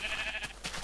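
A single short bleat from a Minecraft sheep being sheared, faint and quick, with a second soft blip just after.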